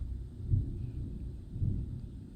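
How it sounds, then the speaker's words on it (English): Distant thunder rumbles low on a dark, stormy day, two soft rolling swells about a second apart. "Hear that thunder?"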